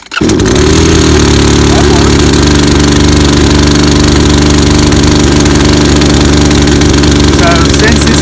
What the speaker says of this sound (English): since this is a brand new chainsaw, this is the very first time I've ever started it